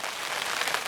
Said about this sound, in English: It's raining as well, to go along with it of course